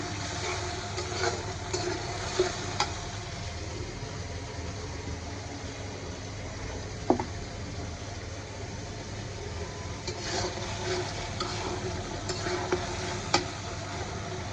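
Chicken pieces coated in spices stir-fried in a pan for a Pohela Boishakh meal, a steady close sizzle with occasional scraping stirs and clicks of a utensil against the pan, no talking.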